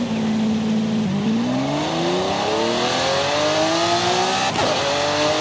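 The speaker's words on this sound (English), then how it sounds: "if I go to launch this car, then look at this." A Lamborghini Aventador launches in Forza Horizon 5, its engine climbing steadily in pitch through the gears with a brief shift dip, loud, close and continuous, with no voice over it.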